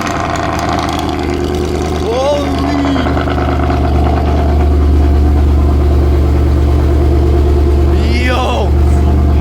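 A Mercedes W204 C63 AMG engine, freshly fitted with new valve cover gaskets and spark plugs, rumbles loudly and steadily at close range with a deep low idle throughout, while people talk over it.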